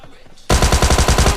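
A Thompson submachine gun fires one loud, rapid burst in BGMI, starting after a short quiet moment and continuing as evenly spaced shots to the end.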